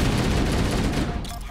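Sustained automatic rifle fire in a video game rattles loudly as one unbroken burst, then cuts off and leaves a brief fading tail.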